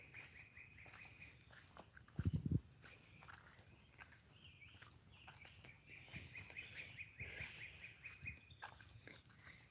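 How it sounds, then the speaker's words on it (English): Birds chirp faintly through Florida woods in scattered high calls, with nearby footsteps and a brief low thump. "Hear them birds."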